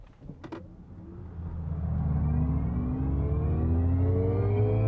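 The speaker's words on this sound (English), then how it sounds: "The piped-in acceleration sound feels nice, but it's a bit loud." A synthetic engine-like tone, piped in by an electric car, rises steadily in pitch as the car accelerates, growing louder and holding a smooth humming whine, after a couple of brief clicks.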